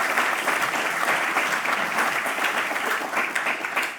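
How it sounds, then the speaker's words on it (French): Audience applause at a closing speech of a publishing summit, a dense, steady wash of many hands clapping at once, loud and continuous throughout before thinning slightly at the end. "je vous propose d'applaudir"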